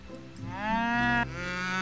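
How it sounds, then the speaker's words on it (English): Cows mooing in the strategy video game Age of Empires III, one long, loud, close moo followed straight away by a second, lower one, with no talk over them. "Oh, we've got cows."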